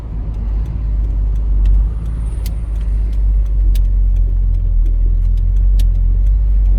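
A 1991 Jaguar XJS fitted with a Chevy V8 engine drives along, its deep engine rumble steady and loud throughout, with a slight swell in the middle.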